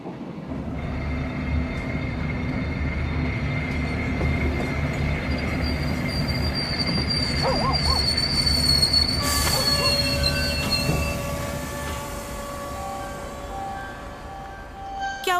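A train rolls steadily along the rails with a continuous low rumble, and high metallic wheel squeal rises and holds through the middle and later part, loud and near, with no talk.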